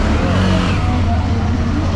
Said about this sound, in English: this is a child driving a tuk-tuk